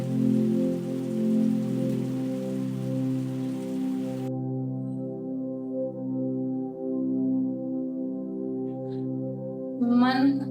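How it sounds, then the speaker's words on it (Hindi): Light rain patters with a soft, steady hiss for the first few seconds beneath a sustained, calm musical drone. The rain then fades out while the drone carries on. "बारिश की थोड़ी थोड़ी बूंदें"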